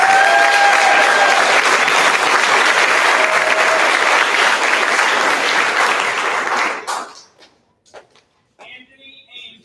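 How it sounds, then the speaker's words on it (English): Sustained loud applause from an audience at a middle school band spring concert, honoring the band students, steady and dense for about seven seconds before cutting off abruptly, followed by faint scattered sounds and a brief voice. "deserves a round of applause because their hard work paid off"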